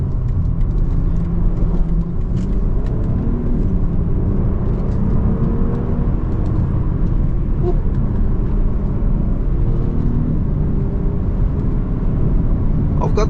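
A BMW M340i G20 in Sport Plus mode with a steady low engine drone and road roar inside the cabin, heard continuously at an even level under a voice.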